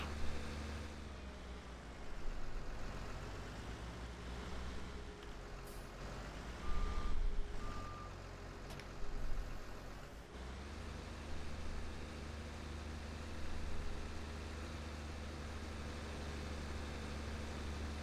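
A 133-horsepower Case telehandler driving in Farming Simulator 19, with a low, continuous engine drone and a couple of short beeps partway through. No one speaks.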